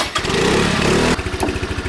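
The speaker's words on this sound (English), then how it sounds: "we're in Europe when we're getting around in a scooter" A small scooter engine runs loudly and steadily, then shifts to a lower, pulsing throb as it slows, close to the listener, with two riders aboard in Europe.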